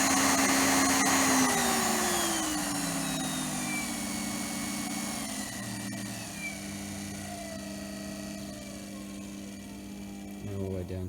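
A treadmill DC motor driven through a variable speed controller whirs at full speed with a steady high whine, then its pitch slides gradually downward as it slows, with a brief rise near the end.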